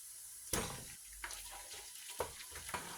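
Tomato paste frying in vegetable oil for Nigerian jollof rice sizzles steadily while a spoon stirs it in the pot, several sharp scraping knocks punctuating the hiss, close and moderately quiet.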